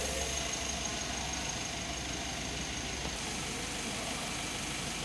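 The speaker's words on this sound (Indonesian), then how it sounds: "Kita panaskan dulu mesinnya." A Mitsubishi L300 Euro 4 engine idles while warming up, holding a steady, even low rumble with no revving and no talk.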